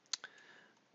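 A computer mouse gives two quick, light clicks close to the microphone while editing in Dreamweaver, followed by a faint electronic hum in a quiet room.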